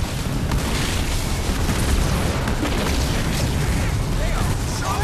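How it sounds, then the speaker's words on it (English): Artillery explosions boom continuously in the Halo Wars 2 video game, a dense, loud wall of blasts and rumbling with game voices talking over the barrage. "Wolverine is under artillery assault."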